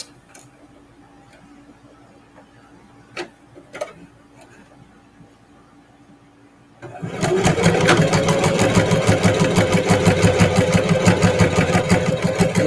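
A sewing machine stitches through fabric scraps and thick denim seams for a reverse appliqué quilt block. After quiet handling with a few taps, it starts and runs steadily with a loud, fast, even mechanical rattle.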